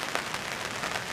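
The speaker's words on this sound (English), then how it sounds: "Raining now." Steady rain falls on a campsite, a dense, even patter that holds the same level throughout with no voices.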